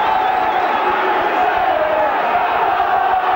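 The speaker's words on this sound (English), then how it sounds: "Stuart Evans and the Knowsley Road crowd are getting behind their side." A rugby league crowd at Knowsley Road, St Helens, roars behind the home side in a match against New Zealand: a loud, continuous wall of cheering and chanting that holds steady throughout.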